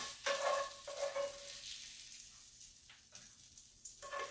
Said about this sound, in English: going to do first is saute the shrimp quickly